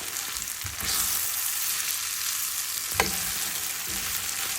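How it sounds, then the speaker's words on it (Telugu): Washed flattened rice is stirred in a hot frying pan for poha upma, giving a steady, close sizzle with a couple of distinct scraping strokes from the spatula. "వేసుకున్నాక బాగా తిప్పుకొని సరిపడినంత ఉప్పు వేసుకోవాలి"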